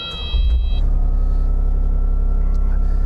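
A hired mini digger starts on its key ignition: a few electronic warning beeps, then the engine catches and settles into a loud, steady, close low rumble.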